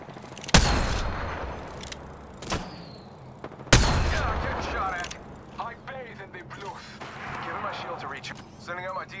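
Gunfire in Apex Legends, a few loud, sharp shots spaced apart that ring out and decay, with game effects and a voice speaking between them.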